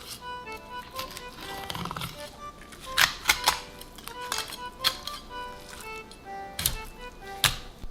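A knife fillets a fish on a cutting board, with sharp taps and scraping clicks coming in irregular bursts, close and fairly loud, with quiet gaps between.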